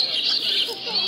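A barn swallow gives a quick, high twittering call, close and fairly loud, a short burst of chirps lasting about a second.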